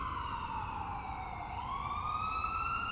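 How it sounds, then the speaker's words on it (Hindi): An ambulance siren wails, sweeping steadily up and down in pitch over a low rumble of traffic, loud and continuous throughout. "उन्हें उस एम्बुलेंस के सायरन की आवाज़ सुनाई देने लगी।"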